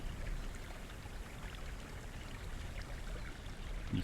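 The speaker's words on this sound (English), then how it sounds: "We also have some nice fountains here." A fountain in the video game Conan Exiles gives off a soft, steady rush of trickling water at low volume, even throughout, with no voices.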